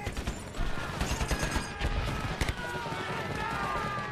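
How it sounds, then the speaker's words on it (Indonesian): Gunfire from a jungle battle scene in the 2006 war film Kokoda, set in Papua: repeated rifle shots crack in quick bursts amid a busy, rumbling combat soundscape. "gemuruh senjata pun memecahkan kesunyian"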